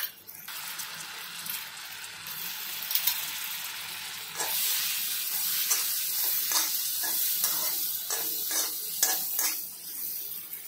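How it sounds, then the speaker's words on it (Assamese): Paneer frying over very low heat in a pan, a steady soft sizzle with occasional stirring clatters and scrapes that grow busier in the second half, with no talking. "পনীৰখিনি অলপ ৰঙচুৱাকৈ ফ্ৰাই কৰি ল'ম। একদম কম জুই পনীৰখিনি এইদৰে মই অকণমান ভাজি ল'ম।"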